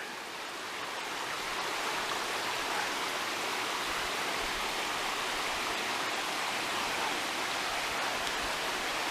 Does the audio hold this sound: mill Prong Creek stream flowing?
yes